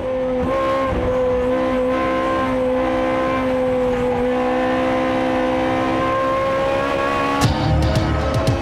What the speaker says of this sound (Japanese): そしてついに最終コーナーランダーがトップで進入